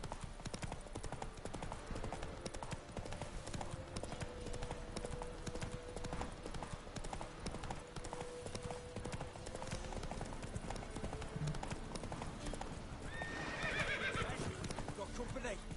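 In the video game The Witcher 3, a horse's hooves clip-clop in a steady galloping rhythm the whole time, joined near the end by a loud neigh, with a voice speaking under the hoofbeats.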